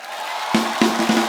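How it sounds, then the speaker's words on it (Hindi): A studio audience at a comedy show breaks into cheering and applause, short loud bursts rising sharply after a quiet start, with whoops over the clapping. "उसके लिए जोरदार तालियां प्लीज"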